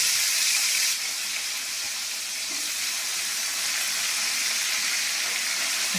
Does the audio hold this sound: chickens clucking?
no